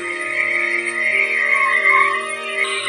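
A sound effect of frogs croaking forms a loud, continuous, tonal chorus of overlapping calls with no pauses, close and alone without any voice.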